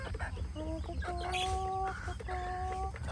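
A chicken clucks close by, giving a few short calls and then two longer, drawn-out clucks over a steady background hum.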